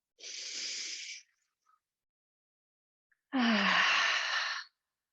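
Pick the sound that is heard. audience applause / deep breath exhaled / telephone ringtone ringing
deep breath exhaled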